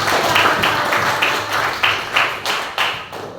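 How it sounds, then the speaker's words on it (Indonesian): A small group in a classroom claps together in steady bursts, the applause swelling and fading in quick pulses for a few seconds. "Tepuk tangan untuk kelompok 2"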